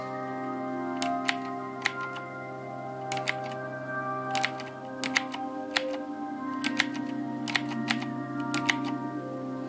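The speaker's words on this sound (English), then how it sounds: "I like the clicking." Razer BlackWidow Ultimate 2013 mechanical keyboard keys click sharply and irregularly during steady typing, close and fairly quiet over a constant background hum, with no talking.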